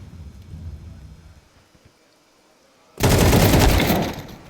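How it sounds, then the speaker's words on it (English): A flashbang grenade in a competitive tactical shooter match erupts as a sudden loud, sharp blast after a quieter stretch of low rumbling game sound, its noisy burst ringing on for over a second. "It's the op who's throwing these flashbangs to set them up."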